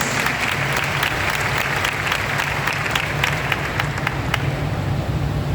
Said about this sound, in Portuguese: dá uma salva de palmas ao Senhor, em nome de Jesus